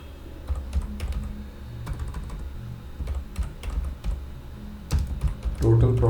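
Rapid clicking of computer keys in irregular bursts, typing close by at moderate volume, with a voice talking intermittently underneath.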